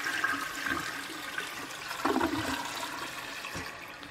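A 1995 Vitromex Marathon toilet flushes, a close rushing swirl of water with a gurgling surge midway, then draining and refilling.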